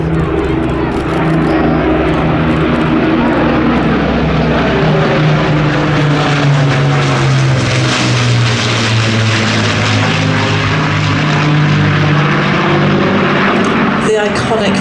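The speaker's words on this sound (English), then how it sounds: "listen to that wonderful sound of the Merlins coming in from behind" Rolls-Royce Merlin engines drone loudly as a Lancaster bomber, Spitfires and a Hurricane fly past in formation at an air festival, a deep, rich propeller roar swelling and shifting as they pass, with a voice audible over it.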